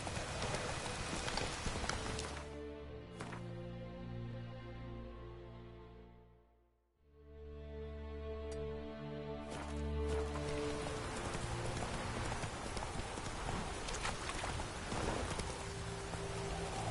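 Roach the horse's hooves clip-clop steadily in The Witcher 3, a rhythmic near trot that fades briefly to near silence midway, with rain patter and a soft game music bed underneath.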